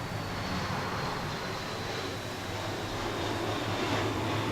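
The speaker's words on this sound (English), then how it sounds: "That's one low-flying jet." Steady broadband roar of a low-flying jet plane passing overhead, constant and fairly loud across the whole stretch without voices.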